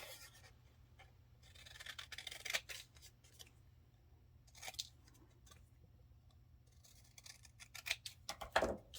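Scissors snipping through coffee-dyed paper in a quiet room, a few short, faint cutting strokes and rustles spaced irregularly over a low background hum.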